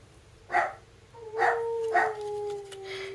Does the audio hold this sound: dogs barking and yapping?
yes